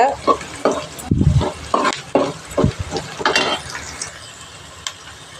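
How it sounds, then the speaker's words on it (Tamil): Sliced big onions being stirred and sautéed in a pan for Tamil-style egg curry, with a spatula scraping in uneven strokes over a soft sizzle, a few louder knocks against the pan. "பெரிய வெங்காயம் போட்டு கொஞ்சம் நல்லா வதக்கிக்குவோம்"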